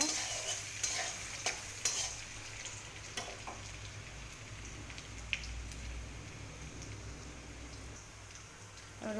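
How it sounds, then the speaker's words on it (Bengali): Crushed garlic with black cumin seeds frying in hot oil in a pan as it is stirred, a steady close sizzle broken by several sharp scrapes and clinks of the utensil. "রসুনটা ভাজা ভাজা হয়ে গেলে"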